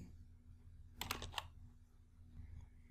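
A short burst of keystrokes on a computer keyboard while entering a unit into a spreadsheet, a few quick close taps grouped together over a faint steady hum.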